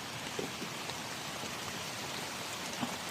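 Steady rain falling outdoors around the base of a tree, a continuous close hiss of drops with a few slightly louder patters and no voices.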